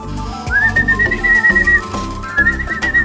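A person whistles two long, steady, high notes close by to call pigeons, with a low background rumble underneath.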